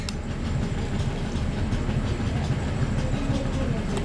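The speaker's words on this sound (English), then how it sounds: "I love seeing so many engines in action all at once" Railway engines run at the Spa Valley Railway gala on the Cuckoo Line, a steady low rumble and rolling clatter of trains at close range with no break.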